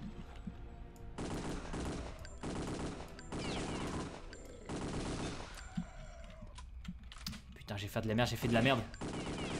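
Bursts of automatic gunfire in Return to Castle Wolfenstein, several loud, close volleys separated by short pauses, with someone speaking over the later part.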